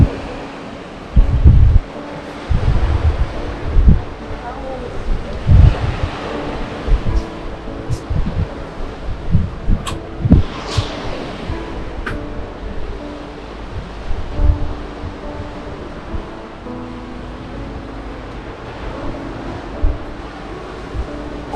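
Ocean waves wash onto the beach of a hotel in Kobuleti, Georgia, a low rolling surf with intermittent swells and gusts of wind buffeting close by.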